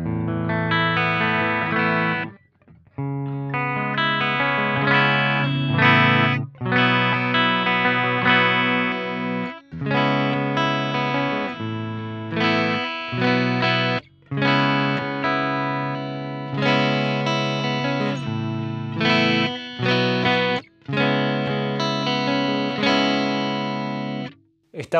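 Strandberg Boden Metal 8 eight-string electric guitar in vintage mode, warmer with lower gain, playing sustained chords and riffs with brief gaps, steady and prominent with no talk.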